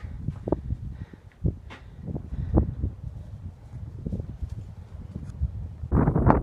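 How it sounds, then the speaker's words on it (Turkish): Breeze blows steadily across the microphone atop a forest lookout tower, rumbling gusts and rustling air filling the scene, with a stronger gust near the end. "Çok bol bir e, esinti var."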